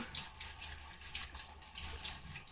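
Water runs from a tap into a container of cucumber seeds being rinsed loose from their sacs, a steady faint splashing and hiss with no talk.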